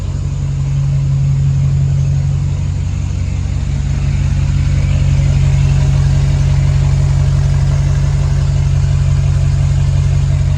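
Ford 6.0 Powerstroke diesel V8 in a super duty swap, needing a VGT solenoid, idling with a steady, even low rumble close by, no talk.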